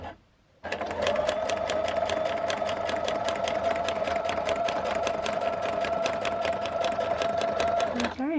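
A sewing machine stitches fabric for a peacock dress, starting abruptly and then running fast and steady with a rapid, even mechanical clatter and hum before stopping, all close by.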